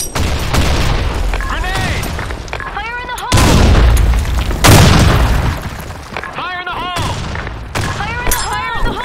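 Grenade blasts in the online shooter Blackshot: two loud, deep booms stand out amid rapid gunfire and other in-game combat sounds.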